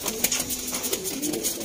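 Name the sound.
pigeons cooing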